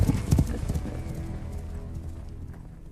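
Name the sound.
horses hooves clip-clopping, horse nomads in Star Wars film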